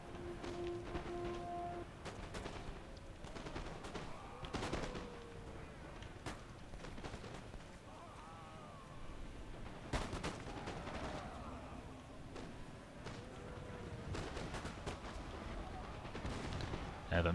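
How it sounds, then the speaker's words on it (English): Musket volleys from skirmishers in Napoleon Total War, a scattered run of sharp shots with some heavier booms over steady game ambience, with a voice talking throughout. "Some of our skirmishers are shooting at their armed citizenry"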